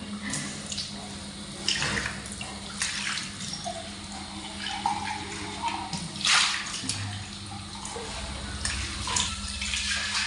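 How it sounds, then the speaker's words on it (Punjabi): A kitchen sink tap runs continuously, a close and steady rush of water with a low background hum and a few brief louder splashes. "ਰਸੋਈ ਦੇ ਵਿੱਚ ਸਿੰਕ ਤੇ ਮੇਰੇ ਭਾਂਡੇ ਧੋਂਦੇ ਟੂਟੀ"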